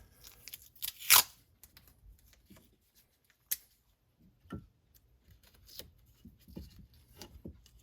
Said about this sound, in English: Then I'm going to tape it.